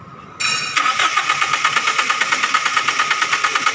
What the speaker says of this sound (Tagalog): ayaw pong mi-start ng sasakyan na to